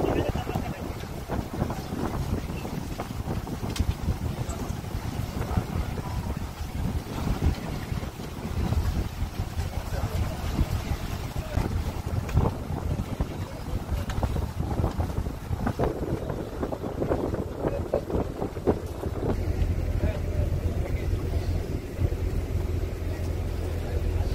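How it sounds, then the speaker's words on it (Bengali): A motor boat passes close by on a Sundarbans waterway, its engine and hull wash rumbling under heavy wind noise, with some voices nearby. "আর একটা বোট যাচ্ছে আমাদের ঠিক পাশ দিয়ে।"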